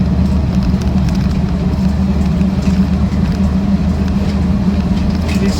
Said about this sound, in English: .600/16 tyres are a little bit noisy on the road though, because they are quite an aggressive tread pattern.